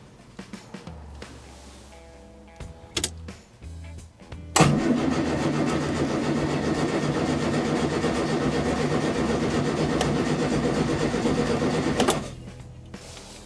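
A Morris Traveller's starter cranks the engine in one long, steady churning run of about eight seconds without catching, preceded by a few clicks and clunks.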